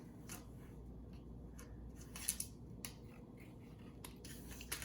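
Scissors snip fabric mask trim nearby in a handful of crisp, separate cuts over a low steady background hum, with no talking.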